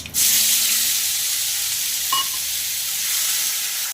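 Pointed gourd peel paste frying in a wok of hot oil with nigella seeds, giving a steady close sizzle and hiss that runs evenly throughout with no talk.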